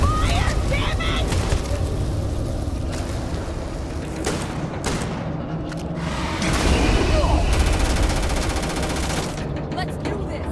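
Gunfire in the space video game Starfield, loud continuous bursts and booms over a thick roaring din, with voices speaking over the battle.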